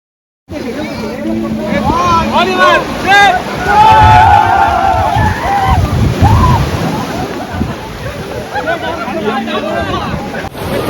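Water sloshes and splashes as someone wades into the sea at Batu Ferringhi beach in Penang, loud and close, with surf and a babble of voices and shouts from people nearby.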